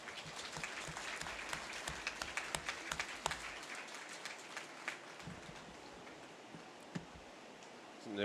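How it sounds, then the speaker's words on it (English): Spectators at a county fair cattle show give a round of applause, sparse, distinct claps that thin out to scattered single claps with quiet gaps between them. "Go ahead and give them a young round of applause."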